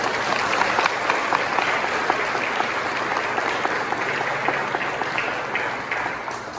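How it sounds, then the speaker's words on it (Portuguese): A seated audience at a Bible symposium applauds the panel, sending up a full, continuous wash of clapping from many people. It stays loud and even from start to finish, with no one speaking over it. "Vamos aplaudir a mesa,"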